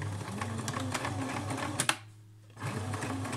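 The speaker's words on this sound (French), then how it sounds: "Et je vais coudre jusqu'au bout." A sewing machine stitches fabric for simple zero-waste wipes, a close, rapid mechanical whirr with even stitch clatter that stops briefly for about half a second and then resumes.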